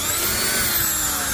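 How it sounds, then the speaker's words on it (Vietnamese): A used Japanese power drill spinning in normal drill mode, a loud, steady motor whine held close up for the whole stretch with no talking over it. "Khoan thường nè."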